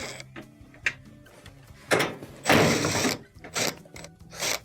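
Quarter-inch screws come out of the top of a washing machine's console in a run of ratcheting, whirring driver bursts with short pauses between them. The sound is close and fairly loud, and no one talks.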